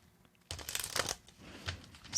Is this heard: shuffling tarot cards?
yes